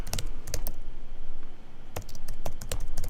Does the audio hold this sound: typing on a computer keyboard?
yes